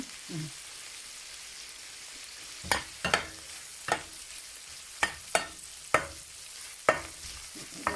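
Fried rice being stir-fried in a pan with lard, a spatula scraping and clacking in irregular repeated strokes over a soft, continuous sizzle.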